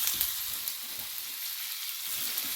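Diced rhubarb sizzles in a hot pan, a steady crackling fry heard close and fairly quiet, with no voices over it.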